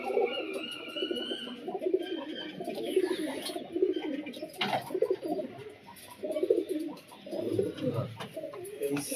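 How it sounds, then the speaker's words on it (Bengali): Pigeons coo repeatedly, a busy chorus of soft, rounded calls near and all around, with other bird chirps mixed in, during a pigeon-flying tournament where seventeen birds are being released. "এই যে আমার 17টা পায়রা ছাড়া হচ্ছে"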